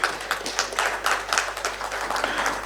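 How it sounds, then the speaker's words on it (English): Audience applause as a guest, a company director, is called onto the stage at a housing policy panel discussion; steady, dense clapping from a crowd fills the whole stretch at moderate loudness. "Can we have a round of applause, please?"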